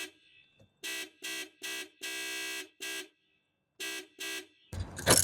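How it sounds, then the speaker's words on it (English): A 1997 Toyota Land Cruiser FZJ80's car alarm blares in loud, harsh honking bursts of uneven length with short silent gaps between them, ending in a burst of clattering noise. "So the alarm went off."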